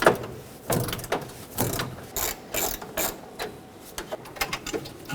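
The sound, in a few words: 12mm socket ratchet loosening a horn bolt on a Toyota Tacoma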